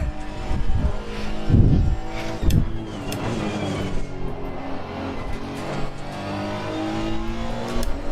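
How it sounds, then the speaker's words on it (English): A Honda engine with VTEC revs hard in the racing game Assetto Corsa Competizione, with loud, close bursts of revving followed by a sustained high engine whine and shifting pitch. "Too much VTEC indeed, Sticky."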